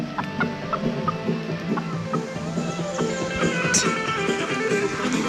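A wild turkey hen clucks in short repeated calls outdoors, mixed with other bird chatter and a steady rustling background, moderately close and continuous.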